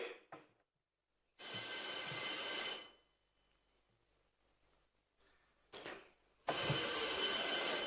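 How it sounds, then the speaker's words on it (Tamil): An electric quorum bell rings in a legislative assembly in long, loud bursts, two sustained rings separated by quieter pauses with a few shorter clangs. "அழைப்பு மணியை, அதாவது கோரம் பெல் 3 முறை ஒலிக்க செய்வார்கள்"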